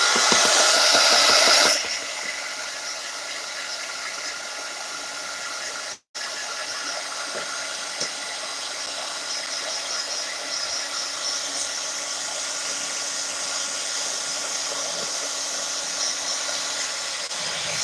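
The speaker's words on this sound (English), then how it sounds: "I'm going to heat gun this and then check chat." A heat gun blows a constant airy hiss and whir close by over a craft book page, running steadily for a long stretch after a brief louder start, briefly cut once, with no talk.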